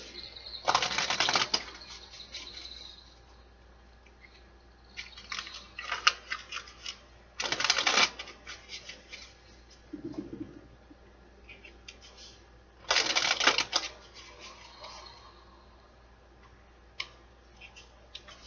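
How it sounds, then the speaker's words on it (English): Deck of tarot cards being shuffled in several separate riffling bursts with quiet gaps between them, close and fairly soft. "One more shuffle."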